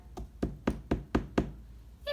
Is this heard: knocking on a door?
yes